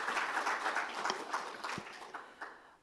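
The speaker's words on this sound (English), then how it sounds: "let's please have a round of applause" Brief, fairly faint applause from a health-policy panel audience, a light patter of clapping that trails off within a few seconds.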